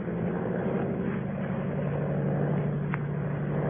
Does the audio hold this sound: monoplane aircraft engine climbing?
yes